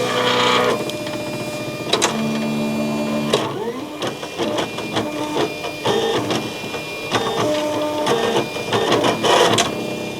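A craft cutting machine slices adhesive foil material, with a continuous mechanical whir and buzzing carriage movements punctuated by sharp clicks and brief motor bursts, loud and close throughout.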